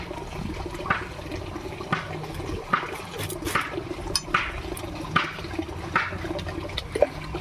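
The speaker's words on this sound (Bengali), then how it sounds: "দেখো যে কবার কাটবো সেই কবার আমি জলে ভেজাবো সঙ্গে সঙ্গে।" Hands dipped and swished in water while cutting jackfruit, with running and splashing water sounds and light sporadic clinks and taps at moderate level.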